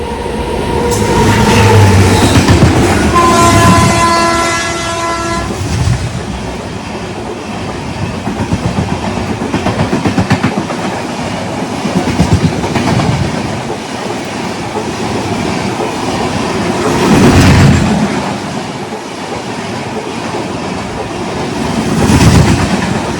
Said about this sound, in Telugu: ఆపోజిట్లో హరిప్రియ ఎక్స్ప్రెస్ వస్తుంది కొల్హాపూర్కి